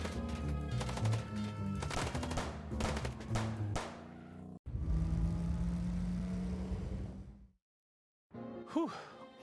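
Gunshots in the detective game Chicken Police – Paint it RED!, a volley of sharp cracks followed by a longer burst, then a sudden silence and a brief final sound.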